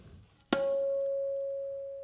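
A single tin stroke on a tabla drum, one sharp attack followed by a clear ringing pitched tone that sustains and slowly fades, played alone.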